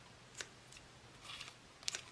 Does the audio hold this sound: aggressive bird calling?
no